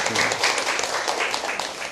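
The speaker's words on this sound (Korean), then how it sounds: "일단 박수 한번 보내주시고" Applause from a lecture audience at a counseling psychology special talk, a dense steady patter of many hands clapping together, loud and close, easing slightly toward the end.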